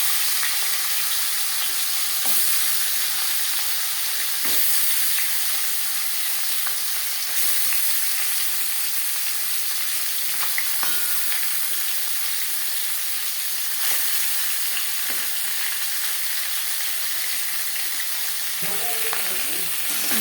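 Marinated bhetki fish bones fry in hot refined oil with a steady, dense sizzle and hiss that holds for about twenty seconds, with occasional small pops and stirring clicks.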